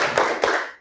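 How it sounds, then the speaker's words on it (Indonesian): A classroom group claps a short rhythmic cheer, two sharp hand claps close together and ringing briefly in the room before fading. "Boleh kasih tepuk semangatnya?"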